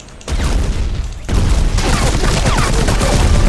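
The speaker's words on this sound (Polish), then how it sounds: "Ja tam fajerwerki puszczam teraz." Dense, rapid crackling bursts and booms of fireworks erupt suddenly and keep going as a loud, continuous barrage, launched in the video game Battlefield Heroes.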